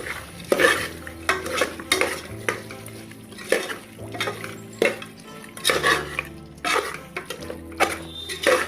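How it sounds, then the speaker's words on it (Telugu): Chilli powder is stirred into mutton curry frying in a pan, with repeated scraping strokes of a spoon against the pan over a soft sizzle, close and rhythmic, no talking. "కారం వేసుకోవాలి టూ స్పూన్స్ వేసుకోవాలి ఇలా ఒకసారి కలుపుకోవాలి"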